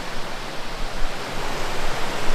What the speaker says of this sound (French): Regardez-moi cette cascade là